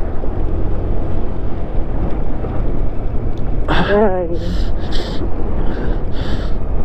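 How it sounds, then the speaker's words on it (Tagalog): Strong wind buffets the microphone in a constant low roar, while a person lets out a brief exclamation and some breathy voice sounds partway through. "Grabe, pumapagaspas pa yung hangin."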